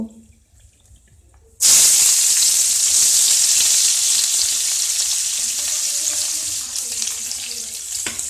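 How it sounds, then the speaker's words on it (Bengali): Two large sliced onions hit hot oil, bursting into a loud, steady sizzle that starts abruptly after a quiet moment and holds strongly, close by, with no talk over it. "আমরা তেলের মধ্যে 2টো বড় মাপের পেঁয়াজ কোচানো রয়েছে সেটা দিয়ে দেব"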